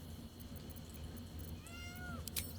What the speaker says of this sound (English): Is that a cat? Did I just hear a cat?